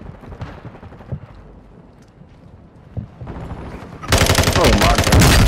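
Video game gunfire: scattered shots early on give way to a sudden, loud, dense burst of rapid firing in the final second and a half.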